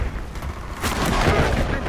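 An incendiary grenade goes off in Battlefield Hardline, a booming burst after a short lull that swells into a loud, rough roar of flame and lingering crackle amid gunfire ambience.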